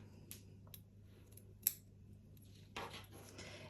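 Scissors snip through fabric for a sleeve in a quiet sewing room, with a few separate crisp cuts and a louder, longer stretch of cutting near the end over a steady low background hum.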